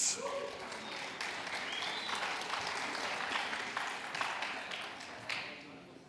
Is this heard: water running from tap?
no